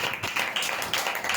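A church congregation clapping hands at a New Year thanksgiving gathering, a fairly soft, rhythmic run of claps at a steady beat through the short stretch.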